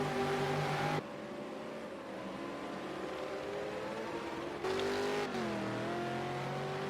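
V8 Supercar race car engines in a racing video game at Silverstone International, run on heavy throttle through bends: a loud, steady, droning engine note whose pitch slides and shifts, with abrupt cuts to other cars.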